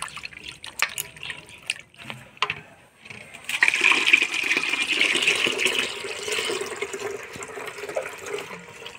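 Water poured and swished over chhana dough in a bowl during washing, with a few clinks and taps first, then a sustained splashing rush that gradually settles.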